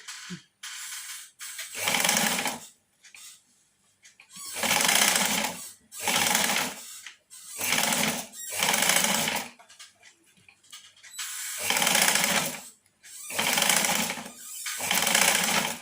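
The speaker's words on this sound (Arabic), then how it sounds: "غنبدا نخيط بعد ما ركبت الصباط الاخر ديال الخياطه. دابا غنبدا نخيط" A sewing machine stitches a pillow cover in repeated loud bursts of rapid mechanical whirring, each a couple of seconds long, separated by brief quiet pauses.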